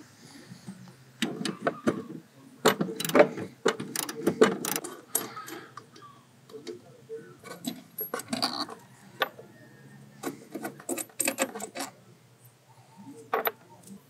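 Wrench work on the airbox bolts of a Mitsubishi Montero, quick metallic ratcheting clicks and tool clinks in uneven bursts, close up with quiet gaps between them.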